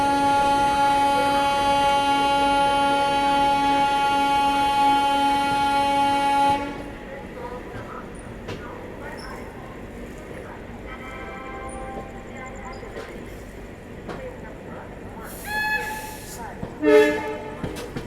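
A long, loud horn blast from the Delhi Mizoram Rajdhani express as it runs toward Kanpur Central at night, followed by steady rumbling and clattering of the moving train, with someone speaking over it and a brief squeal near the end.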